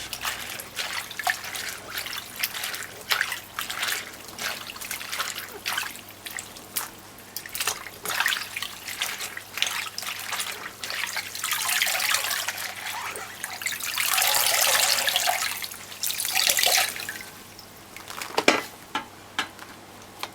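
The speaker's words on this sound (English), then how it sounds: "Now you're just going to wash it by doing this." Callaloo leaves are swished and rinsed in water in a sink for a salt-fish dish, making irregular close splashes, drips and sloshing that swell into a fuller rush of water toward the end.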